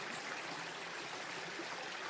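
Water flowing in a small river, a steady broadband rush with no breaks, moderately near and continuous throughout.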